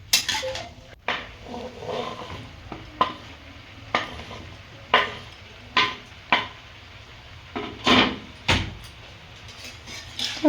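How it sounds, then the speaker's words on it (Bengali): Cut potatoes and vegetables are stirred with spices in a pan for a Bengali mixed veg sabji, with repeated clattering scrapes of a spoon against the pan over a light steady sizzle. "তারপর আলুগুলো ভালো করে নেড়ে চেড়ে 5-10 মিনিট এরকম ছেড়ে দেব।"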